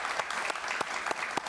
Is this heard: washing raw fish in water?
no